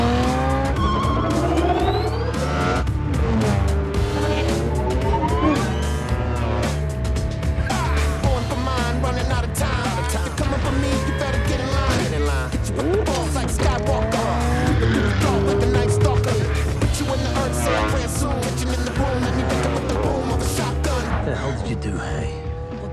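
Several cars race through a movie car chase, with revving engines and repeated tyre squeals and skids sweeping by, loud and dense throughout, along with brief voices.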